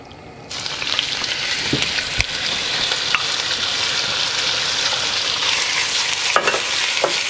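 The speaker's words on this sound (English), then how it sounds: "Hopefully you hear a sizzle just like that." Steady, loud sizzling of chicken browning in a hot pan, with occasional stirring scrapes, close up and continuous.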